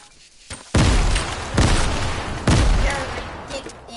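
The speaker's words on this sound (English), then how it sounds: "I'm gonna explode this house." A house blowing up in the video game Fortnite: three loud, heavy booming blasts about a second apart, each with a crackling, gunfire-like burst that fades before the next hits.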